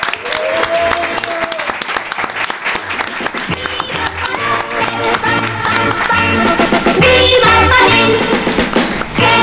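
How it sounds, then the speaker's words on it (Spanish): A studio audience breaks into loud, sustained applause mixed with cheering and crowd noise, dense and continuous throughout, with a voice speaking over the clapping. "Lo que reunimos ahora son nuestras manos para despedirte con este fuerte aplauso."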